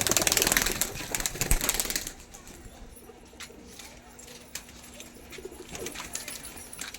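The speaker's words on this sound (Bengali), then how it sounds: "দুটো গিরিবাস দেখাচ্ছি দেখুন এগুলো কালচোঁচের" Black-beaked giribaz pigeons coo softly at close range, a low steady hum running under scattered rustles and light knocks, with a louder burst of handling noise near the start.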